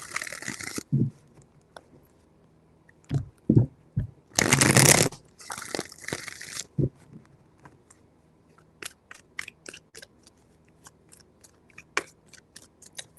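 Tarot cards are shuffled by hand in several separate bursts, each a quick crisp riffle of papery flutter and snapping, loud and close, with short pauses and light handling clicks between them.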